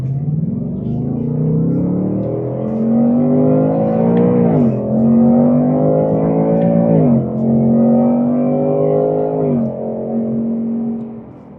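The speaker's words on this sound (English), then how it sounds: "we're gonna open up the throttle just a little bit right here coming around this turn" Ford Mustang RTR Spec 3 with a supercharged 5-liter Coyote V8 pulling hard through a turn, its engine note climbing in several rising sweeps with brief dips at the shifts, loud and close from inside the car, no talking.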